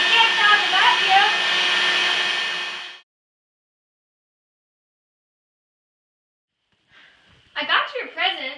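A vacuum cleaner running in a cartoon, a loud steady roar that cuts off abruptly after about three seconds, followed by silence and then voices talking.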